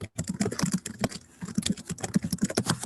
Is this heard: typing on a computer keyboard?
yes